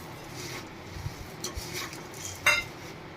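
Puffed rice and sev are stirred in a pan, giving soft dry rustling and scraping with a few light clinks of a spoon against the metal. The sound is quiet and close, and no one speaks.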